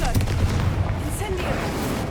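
Blasting Confringo spell in Hogwarts Legacy, heard as a dense burst of booming, crackling impacts that carries on for the whole moment, with talk nearby.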